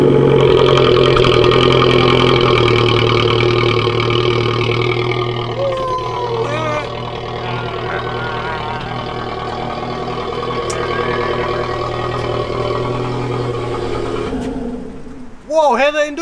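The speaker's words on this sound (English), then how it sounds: "I'll turn the car on. And be like, brrr. Hopefully it's a cold start." A VW Golf Mk6 with a custom exhaust cold-starts and idles loudly with a throaty exhaust drone, steady and rumbling, then revs briefly near the end; someone speaks faintly underneath.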